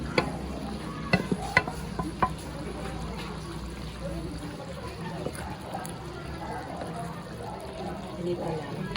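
Beef and broccoli are stirred in a pan with sauce, giving wet, sizzling scrapes and a few clinking utensil taps, close and moderately loud.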